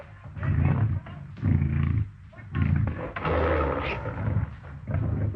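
A lion roars in an old 1934 jungle adventure serial, several loud, rough bursts separated by short pauses, close and dominating the soundtrack.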